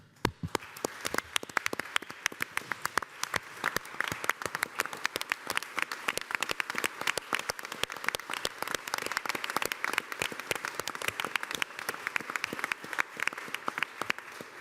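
A standing ovation for four students at a city council meeting, with sustained dense applause of many hands clapping steadily throughout, moderately loud in a large room, with no talking over it.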